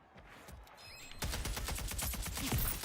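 Rapid gunfire in Splitgate 2 crackles fast and sharp, fairly quiet and distant at first, then louder and denser in the second half as the shots run together in quick bursts.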